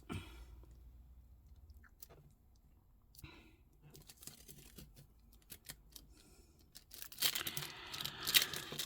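Paper is cut for an ephemera craft project, giving faint, close, irregular snips and small rustles that end in a louder stretch of crinkling and handling of paper.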